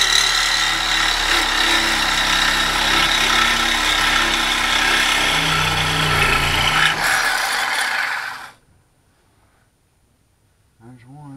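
A cutoff tool cuts through exhaust hangers on a 1975 GMC with a 350 engine, a loud steady grinding whine running for about eight seconds before stopping, followed by near silence and a faint knock at the end.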